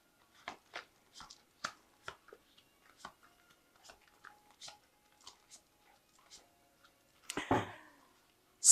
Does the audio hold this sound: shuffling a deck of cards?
yes